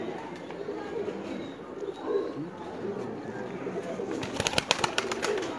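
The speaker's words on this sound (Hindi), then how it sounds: "ये सारे जो टैडी कबूतर कहलाते हैं" Teddy pigeons coo in a loft, soft repeated throaty calls layered over a busy background murmur, with sharp clicking or tapping bursts near the end.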